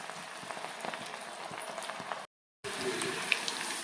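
Food deep-frying in hot oil on high heat, a dense close bubbling and crackling that stops abruptly for a moment, then resumes just as steadily.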